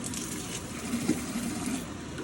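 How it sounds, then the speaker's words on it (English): Water gushing from a plumbing tube as air is bled from the line during a service call, a steady close rush of flow with slight sputtering surges. "When I start getting water out of this tube, I'll shut it off."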